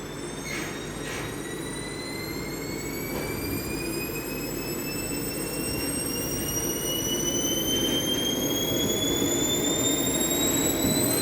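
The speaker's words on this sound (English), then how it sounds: "Now we are going to start the engine, and we are going to take some measurement of thrust, RPM, and ejection gas temperature." A small jet engine on a university test bench spools up and runs with a loud, steady roar, its high turbine whine climbing gradually in pitch as RPM increases.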